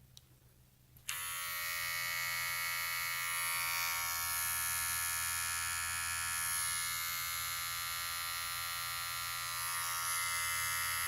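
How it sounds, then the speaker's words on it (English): A WAHL Lithium Ion+ cordless hair trimmer switching on after a brief quiet moment, then a steady, close electric buzz from its motor running continuously. "And then this one is the hair trimmer."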